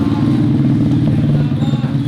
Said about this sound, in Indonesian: Itu tuh yang berisik knalpotnya.